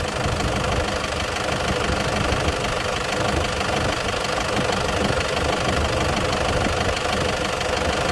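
A 2004 Toyota D4D 3.0-litre common-rail 16-valve turbo diesel engine idles steadily, close and loud, with a constant knocking diesel clatter and no talking.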